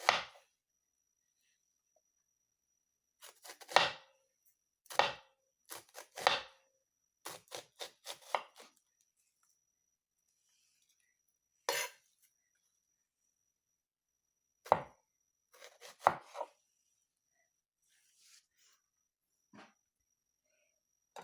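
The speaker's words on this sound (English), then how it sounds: "Now you want to slice your onions as thinly as possible." Knife slicing onions thinly into half moons on a cutting board, a quiet kitchen with bursts of crisp chops in quick runs separated by pauses, close and clear with no talking.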